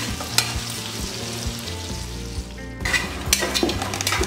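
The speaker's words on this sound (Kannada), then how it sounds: "ಈಗ ನಾನು ಅಕ್ಕಿನ ಫ್ರೈ ಮಾಡೋಂಡು ಗೀಲ್" Rice fries in hot ghee in a pan with a steady, dense sizzle, punctuated by scraping stir strokes and brief clatters of a spoon against the metal.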